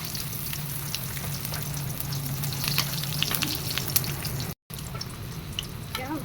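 Eggplant frying in oil for a home breakfast, with a steady close sizzle and crackle running throughout, small pops and drips on top, and a brief dropout near the end.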